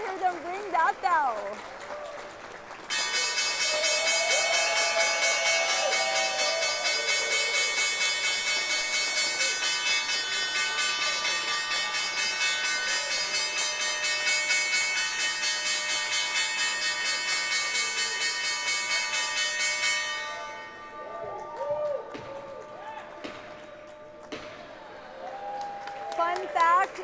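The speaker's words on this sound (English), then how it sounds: "Let's go up to the podium and hear them ring that bell." The New York Stock Exchange closing bell rings from the podium, a loud, continuous electric clang that sustains for about seventeen seconds before cutting off, followed by scattered crowd noise.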